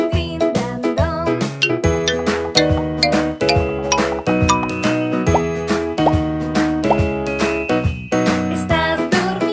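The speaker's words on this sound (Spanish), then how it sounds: "hermano Juan, suenan las campanas, din dan don, din dan don." Bell-like chimes ring in a Spanish children's nursery rhyme, bright tinkling tones struck in a steady repeating rhythm over a full musical backing, loud and continuous with no talking.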